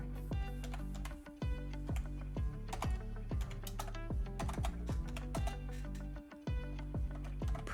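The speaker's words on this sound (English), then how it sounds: "So I type that up." Rapid typing on a computer keyboard, an irregular run of crisp, close key clicks with a few brief pauses, alone without talk.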